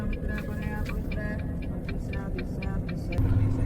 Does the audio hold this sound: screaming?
no